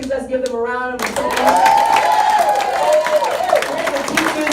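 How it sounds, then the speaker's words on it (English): An audience at a college history and jazz celebration claps in a steady round of applause that swells and holds for several seconds, following a brief sung or hummed tone at the start. "please let's give them a round of applause."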